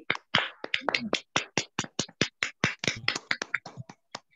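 Hands clap for the moderator at an evening talk on health products for Umrah and Hajj. A few close, sharp claps come quickly and slightly unevenly against a quiet background.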